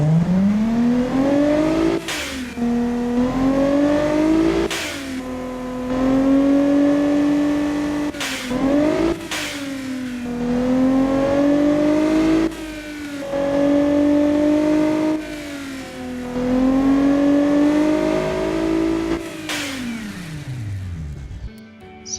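A loud, tuned car engine making 513 horsepower revs repeatedly in short bursts, each rising and falling, with a raspy exhaust tone close by.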